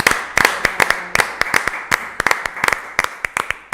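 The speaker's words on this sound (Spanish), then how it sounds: "damos un aplauso al Señor." Church congregation clapping in a burst of irregular, sharp hand claps, fairly close and loud, with no talking over it.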